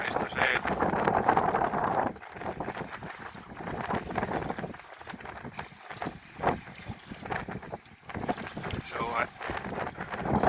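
Wind rushing over a sailboat on open water, a steady broadband roar with gusty swells and buffeting against the microphone, running throughout while someone speaks briefly over it.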